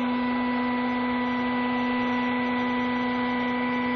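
A free energy motor system runs at a steady speed of about 1850 RPM, giving off a constant, even electrical hum with a strong steady tone throughout and no voices.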